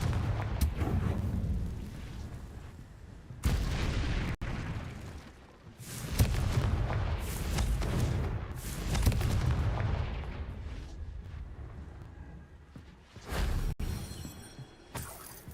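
Confringo spell blasts in Hogwarts Legacy, a series of heavy booming explosions with crackling debris, rising and fading in several separate bursts against combat noise.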